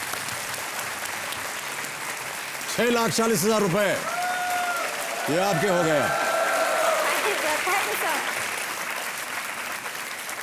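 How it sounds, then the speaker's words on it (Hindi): Steady studio audience applause on a TV quiz show runs throughout, a dense continuous patter under a host's spoken announcement, with bursts of music or sound effects rising over it midway. "तालियों के साथ इनका अभिनंदन।"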